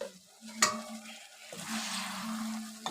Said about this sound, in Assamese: এনেদৰে লৰাই ল'লো মাংসখিনি।